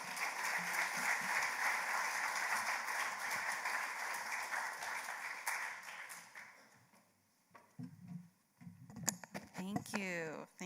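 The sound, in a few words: audience applause for a speaker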